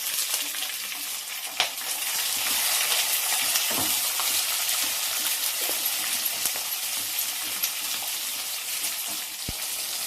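Sliced capsicum frying in a pan gives a steady, close sizzle that runs the whole time without a break, with a few sharp clicks and stirring scrapes on top. No voices.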